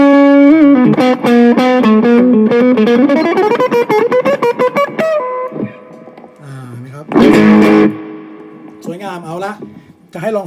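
Electric guitar played hard through a vintage Boss OS-2 distortion pedal at maximum gain, with sustained overdriven notes, a rising run, bends and a loud strummed burst, close and prominent.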